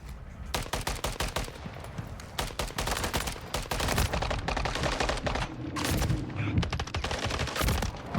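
Rapid automatic gunfire in Call of Duty Modern Warfare 3, dense bursts of shots crackling close and loud, nearly continuous over eight seconds with brief gaps between volleys.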